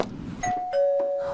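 A doorbell rings at home late at night, two clear electronic tones sounding in sequence, close and fairly loud, with a sustained ringing tail and no talking.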